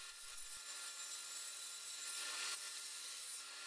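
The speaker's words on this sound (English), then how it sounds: "Okay, time to just cut out that tabletop." Thin 3mm plywood for a camp tabletop is cut by hand with a saw, making a steady, bright rasping scratch that continues with no talking.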